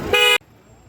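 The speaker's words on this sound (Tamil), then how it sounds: "Full traffic. வண்டி அப்படியே நகராம ரொம்ப நேரமா" A car horn gives one short, loud, close blast in a stalled traffic jam on a road trip to Kodaikanal, followed by near silence.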